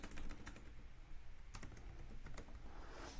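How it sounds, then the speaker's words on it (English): Close-up typing on a computer keyboard, a quick run of clicky keystrokes with a short pause in the middle, steady and moderately quiet with no voices. "I'm going to come over to text, click on add a heading, and I'm going to type in here just listed."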